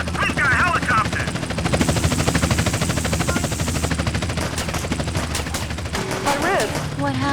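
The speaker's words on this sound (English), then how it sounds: "We're the police, moron! I've got a helicopter!" A helicopter's rotor drone throbs steadily in the video game GTA San Andreas while bursts of gunfire crackle around it, with voices speaking over the din.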